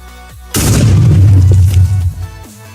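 A loud, close explosion in Minecraft booms out suddenly and rumbles for about a second and a half before fading, alone without talk.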